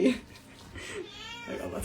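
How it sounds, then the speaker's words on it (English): A Sphynx cat meows a couple of times nearby, short plaintive cries with a quiet pause between them. "I don't know if you can hear meowing in the background."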